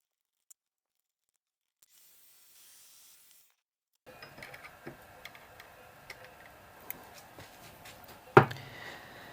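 Tapping an M6 thread into aluminium by hand, a quiet run of small ticks and scraping rubs from the tap turning in the metal, with a sharper clack near the end.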